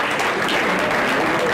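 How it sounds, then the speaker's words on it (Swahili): Applause for a doctor at a gathering, a dense, steady wash of many hands clapping that fills the whole moment without a break. "Daktari makofi tafadhali."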